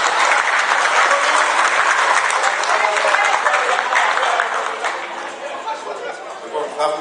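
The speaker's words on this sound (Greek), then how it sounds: "Ένα χειροκρότημα και ευχαριστώ πολύ." Sustained audience applause for the official DJ at a Greek celebration, dense clapping mixed with crowd chatter, loud and steady before easing slightly toward the end.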